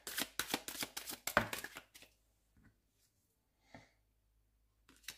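Tarot cards shuffled and handled, a quick series of crisp riffling snaps up close for two seconds, followed by sparse soft card taps and near silence.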